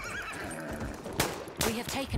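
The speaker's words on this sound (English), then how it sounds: "There's a horse over there if you want one." A horse in the video game Battlefield 1 gives a loud, shrill neigh amid game noise and hoof clatter, with sharp bursts of battle sound breaking in near the end.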